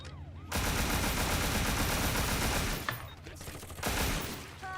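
Big, heavy guns fire in the crime game Scarface: The World Is Yours, a loud, dense barrage of rapid shots that pauses briefly near the end and then resumes.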